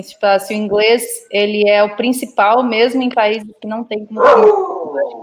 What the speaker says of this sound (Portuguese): Desculpa o cachorro.